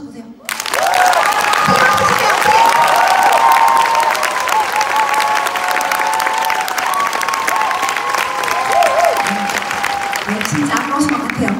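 Seminar audience claps in a long, loud, steady burst of applause lasting nearly the whole stretch, with some cheering and voices mixed in.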